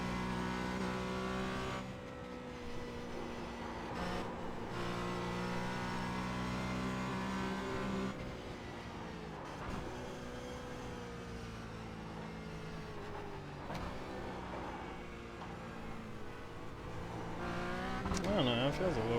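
A Porsche Cayman 718 GT4 race car laps the Mount Panorama circuit at Bathurst, its engine a loud, continuous onboard drone that rises and falls in pitch through corners. Someone talks over it throughout.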